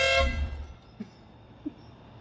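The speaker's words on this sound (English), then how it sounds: "when you honk the horn" A single short Lotus car horn honk blares up close, then cuts off into near silence broken by a couple of faint clicks as the faulty car shuts off.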